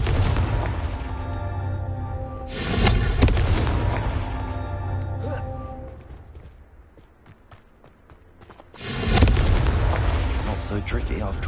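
Confringo fire spell blasting in the Hogwarts Legacy video game, loud booming explosions in two bursts with a quieter stretch between, set against a dense game soundscape.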